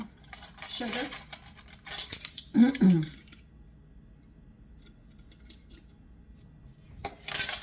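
Metal spoon clinks and scrapes against a saucepan while sugar is added for macaroni salad, a few sharp bursts of clatter separated by quiet pauses, close and fairly soft.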